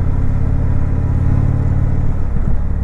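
A 2019 Indian Chieftain Dark Horse motorcycle in Sport mode rumbles loudly and steadily on the road under throttle, a deep continuous engine drone with no talk.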